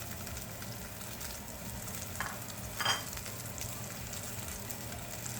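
Halibut sears in a hot pan, a faint continuous sizzle with a couple of brief louder crackles or stirring touches near the middle, no voices.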